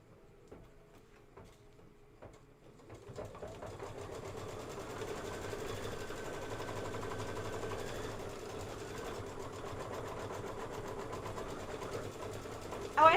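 An embroidery sewing machine stitches out a spoon fill design, starting after a few quiet seconds and then running as a steady, even mechanical whir with rapid stitching ticks for about ten seconds.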